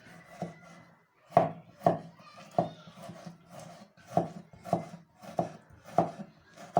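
Tomatoes being chopped on a board make a regular series of crisp knife strikes, about ten in all, each a close, sharp thunk with short gaps between; no talking.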